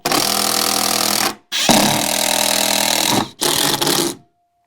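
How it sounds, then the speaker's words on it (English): A power tool driving extra screws into a mount for a golf simulator setup, three loud sustained whirring runs separated by short pauses, close by, with no talk. "I am putting some extra screws in just because of little accidents that I've had in the past."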